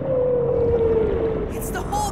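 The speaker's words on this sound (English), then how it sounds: "It's not just our whale, Fontaine!" A long, slowly falling whale call sounds in an undersea cartoon series, close and loud over a murky underwater rumble, with a few short watery splashes near the end.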